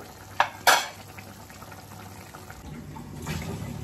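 Water splashes into a pot of spicy Telangana-style chicken curry in two short bursts near the start, then a softer pour trails off later over a low simmering background.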